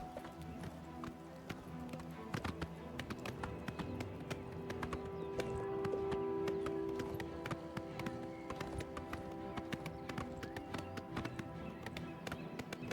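Horse hooves galloping in the video game Oblivion Remastered: a fast, steady, even clip-clop rhythm runs throughout at moderate loudness, with a brief sustained tone in the middle.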